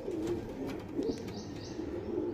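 Pigeons coo in soft, low, rolling murmurs against a steady background hum at a pigeon farm, with a few faint higher chirps mixed in and no speech.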